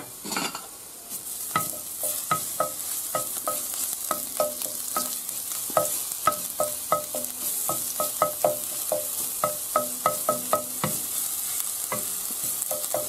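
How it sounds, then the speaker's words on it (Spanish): Garlic sautés in hot oil in a pan for a Spanish chard and potato dish, giving a steady close sizzle broken by repeated scraping stirs in an uneven rhythm, with no talk. "Ahora lo que hacemos es rehogar el ajo un poquito."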